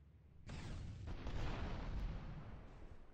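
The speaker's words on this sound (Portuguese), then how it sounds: "Explosão de veículos" A vehicle blows up in the video game GTA Vice City: a sudden loud boom about half a second in, followed by a heavy rumbling, crackling burst that swells and then slowly fades, with no voices.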